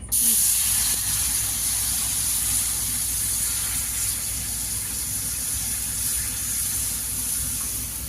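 Water goes into a hot pan for boiling before flour is added for village-style roti, producing a steady, close hiss of steam and spray that fades slightly over several seconds.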